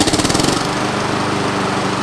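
A Honda lawn mower engine, a GCV 200 on an HRX 217, runs close by at idle with the blade turning. It gives a loud, steady, rapidly pulsing chug throughout.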